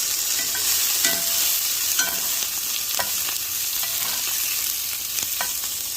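Potatoes and onions fry in a pan at home in northern New Mexico, giving a loud, close hiss broken by repeated scraping and stirring clicks about once a second.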